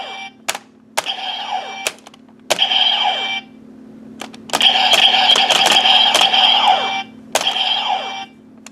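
The Decade K-Touch toy from the Superbest line plays its electronic sound effect: a series of bright synthetic tones and chimes in separate bursts, then a longer sustained musical passage, over a low steady hum.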